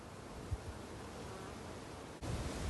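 A steady, close buzz of honeybees humming around a hive, continuous and fairly soft, with a brief dip near the end.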